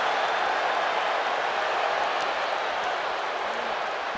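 A capacity arena crowd in the wrestling video game WWE 2K22 cheers and applauds in one dense, unbroken roar that holds at an even, loud level throughout.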